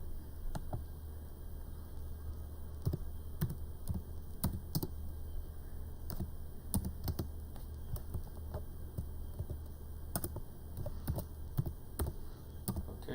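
Someone types in the chat on a computer keyboard, sending quiet, irregular clicks and short bursts of keystrokes over a low steady hum, fairly close, with no talk.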